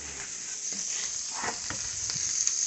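Brown rockfish frying in a pan, a steady close sizzle with a bright hiss and small crackling pops throughout.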